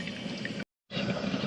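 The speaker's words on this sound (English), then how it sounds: "it's heating the water, and the water's squirting out that center tube, and it's getting shot over the coffee grounds" A West Bend 30-cup vintage percolator coffee maker brewing, water bubbling and squirting up its center tube; a steady gurgling wash breaks off for a moment of silence, then resumes at the same level.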